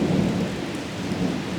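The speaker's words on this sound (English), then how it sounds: "Whoa, big thunder." Loud rolling thunder rumbles continuously through steady heavy rain, with a deep low roar filling the whole stretch and no voices.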